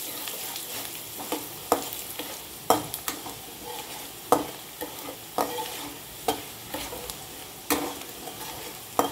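Red chillies frying in oil, a continuous sizzle punctuated by repeated scraping stirs of a spoon against the pan every second or so.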